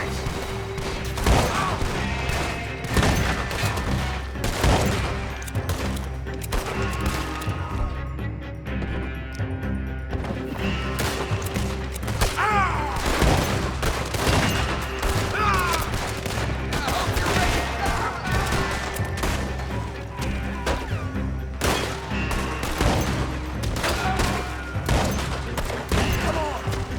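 Rapid bursts of gunfire crack back and forth in a sustained shootout in the video game Red Dead Redemption 2, shots overlapping densely with occasional crashes.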